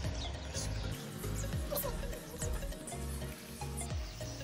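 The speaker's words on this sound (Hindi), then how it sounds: "देखिए भिंडी फ्राई हो रही है।" Half a kilo of okra (bhindi) frying in hot oil, a continuous crackling sizzle with occasional stirring scrapes, moderately quiet and close, with no talk over it.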